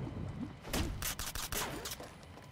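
Rapid bursts of gunfire in the video game Disney Infinity 3.0, set in Upper Manhattan, crackling in several quick volleys over a steady background of game noise.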